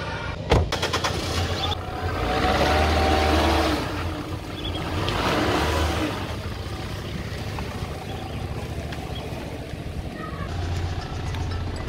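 A car's engine drones steadily as it drives along a narrow road, loud and continuous, with the hiss of tyres and wind swelling and fading.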